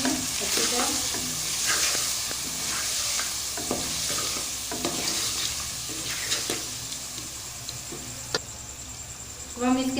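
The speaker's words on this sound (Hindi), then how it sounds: "सारी चीज़ों को मिक्स कर लेंगे अच्छी तरह" Potatoes with salt and ground red chili are stirred in a frying pot, a constant sizzle with repeated scraping strokes of the spoon, under intermittent talk.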